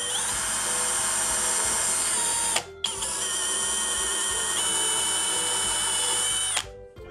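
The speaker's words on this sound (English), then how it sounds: "So I'm going to drill two holes." A DEKOTOOLS 20V brushless cordless drill whines steadily at close range while drilling holes, stops briefly, then runs again in a second long, even burst before cutting off.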